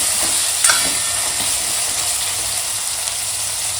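Tomatoes frying and being stirred in a pan for a crab masala, a steady close sizzle with a brief scrape of the spoon near the start and no talking.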